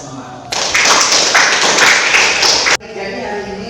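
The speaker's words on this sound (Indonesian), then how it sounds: "mari sama-sama kita beri tepuk tangan untuk kita semua" Classmates give a round of applause during a teaching practice lesson, dense clapping swelling in and stopping abruptly after about two seconds, loud and close, with a room murmur before and after.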